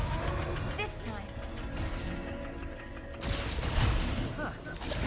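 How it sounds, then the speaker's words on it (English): A bolt crank lock mechanism in the video game Ratchet & Clank: Rift Apart gives off mechanical creaks and ratcheting clicks over a dense game backdrop, with a heavier clunk partway through. "This lock's controlled by a bolt crank."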